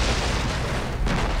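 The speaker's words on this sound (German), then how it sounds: "Hast du die Explosion gesehen?" A rumbling explosion in the open-world shooter Far Cry 3, a broad dull roar that fills the whole moment and swells briefly again near the end, with no voices over it.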